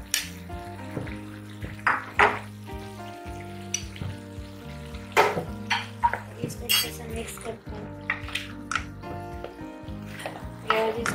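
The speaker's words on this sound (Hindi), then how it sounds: "इसको अच्छे से ये कैबेज डाल के अच्छे से मिक्स कर लें।" Cabbage tossed into a frying pan and mixed with other vegetables for a Chinese-style dish, a soft sizzle under repeated scraping and clinking of a spoon against the pan, close by, with someone talking throughout.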